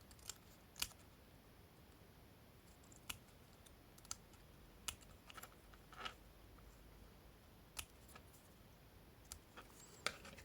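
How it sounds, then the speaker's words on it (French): Scissors snipping at an angle along the edges of a paper embellishment for home craft decoration, heard as faint, sparse clicks and snips spread irregularly over a quiet background. "Alors, je coupe pour que ça soit plus petit."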